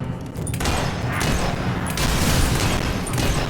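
Gunfire in the Fable 3 video game rattles off as a dense, loud fusillade of overlapping shots that continues steadily for several seconds.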